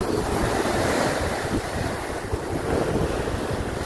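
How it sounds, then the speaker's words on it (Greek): Ocean surf rolls and washes continuously at close range, with heavy wind buffeting the microphone and no voices. "Εν τω μεταξύ τα κύματα, bro."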